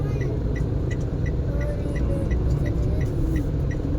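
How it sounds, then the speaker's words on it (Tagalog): Early-morning road traffic hums steadily from inside a vehicle, a low engine drone with a faint regular ticking like a turn signal, and voices speaking over it. "Traffic na ngayon, maaga pa lang ah."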